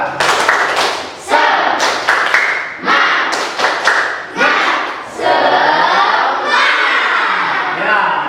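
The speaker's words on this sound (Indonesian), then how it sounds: "marilah kita tepuk semangat" A class of schoolchildren doing a rhythmic spirit clap, bursts of hand claps in short patterned groups separated by brief pauses, with children's voices chanting along between and over the claps.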